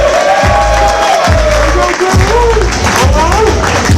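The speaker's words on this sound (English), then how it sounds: "Clap your hands for Rock." A loud crowd claps and cheers for the producer Rockwilder at an interview gathering, a dense, steady roar of clapping and shouting mixed with voices throughout.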